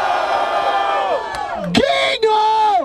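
At a rap battle, a crowd roars and whoops together in a sustained cheer, loud and close, with a shouting voice rising over it.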